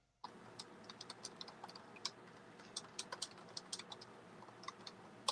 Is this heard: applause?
no